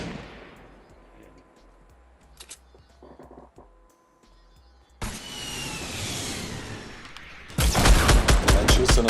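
Gunfire in Fortnite Battle Royale: a sudden loud blast partway through, then a dense, rapid volley of shots near the end over a quieter game background, with no talking.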